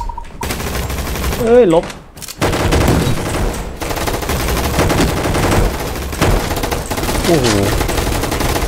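Rapid gunfire bursts from the Roblox game Gunfight Arena, loud and continuous with repeated shots, while a player exclaims over it.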